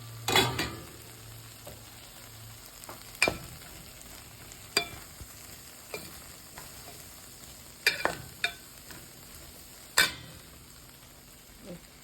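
Cooked jackfruit seeds are stirred in a pan: a few sharp spoon knocks and scrapes against the metal stand out over a quiet, faint sizzle, spaced irregularly with long pauses between them.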